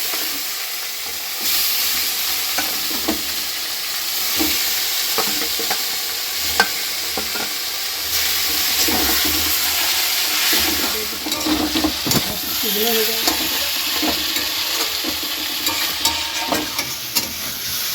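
Chicken fries in oil in a pan with onion and tomato paste, a continuous close sizzle under frequent clinks and scrapes of stirring, with no talk.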